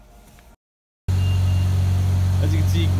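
A car engine idles steadily and loudly up close after a brief silence, a low constant rumble with faint higher noises on top.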